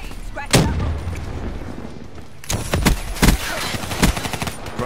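Gunfire and a grenade blast crack through a Black Ops 3 multiplayer match on the Nuk3town map, with a sharp burst early on, a lull, then several more loud bangs and shots in quick succession.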